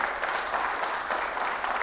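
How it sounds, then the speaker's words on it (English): Audience applause welcoming a speaker at an annual markets outlook event, a steady wash of many hands clapping at moderate, somewhat distant level with no voices over it. "So let's give him a huge round of applause and welcome him"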